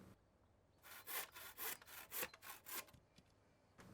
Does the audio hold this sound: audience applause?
no